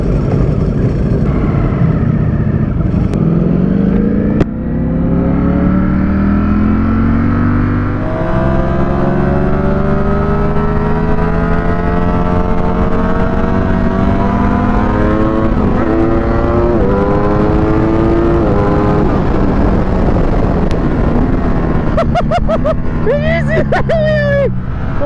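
A 2023 Ducati V4 SP2 Streetfighter motorcycle accelerating hard up a steep hill, loud close engine revving through rising gear sweeps with a sudden shift near the start, while wind rushes past.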